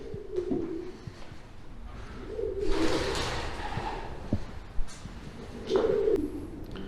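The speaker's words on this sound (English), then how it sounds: "Pigeons." Pigeons coo in a stone tower at Richmond Castle in North Yorkshire, three throaty low coos spaced a few seconds apart over quiet, faintly hissing background.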